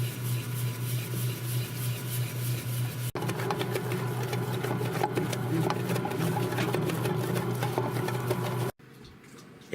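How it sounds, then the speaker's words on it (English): A bread machine kneads honey whole wheat pizza dough with a steady mechanical whir and rhythmic motor hum, pausing briefly and then dropping to a quieter run near the end, faint and close with no talking. "the bread machine is doing its magic"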